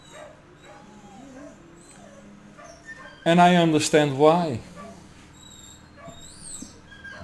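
Several pet dogs whimper and yip together in a short, rising burst lasting about a second and a half, loud and close indoors, with someone speaking calmly before and after.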